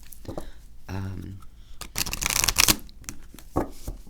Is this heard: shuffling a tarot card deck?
yes